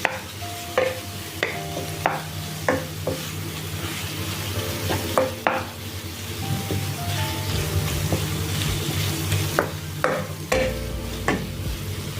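Vegetables stir-fry in a hot pan for a paneer dish, a steady close sizzle broken by repeated scraping and stirring clatter from a spatula, with no talk.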